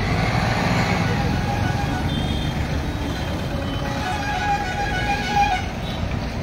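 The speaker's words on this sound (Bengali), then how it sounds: "একের পর এক গাড়ি আসছে" Vehicles pass one after another along a narrow village road fitted with speed bumps, a continuous engine and traffic rumble with a faint high tone, heard close with people talking over it.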